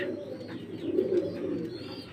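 Soft, low cooing from pigeons, a steady murmuring coo that continues throughout over a faint background hiss.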